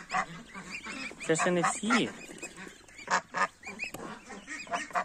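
A mother duck calls her ducklings repeatedly with honking, quacking notes up close, interspersed with short bursts of nearby speech.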